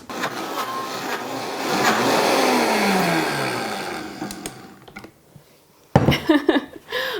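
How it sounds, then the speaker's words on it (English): A countertop blender whirring through a batter of beans and oats, a loud steady motor drone that swells and fades, then stops before a short clattering restart. "Now I'm just gonna blend it."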